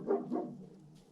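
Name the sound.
dog barking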